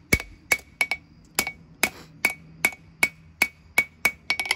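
Hammer blows on hot steel as a knife is forged, about a dozen sharp metallic strikes landing at a steady, fairly even rhythm with bright ringing tones, close and clear with no talking.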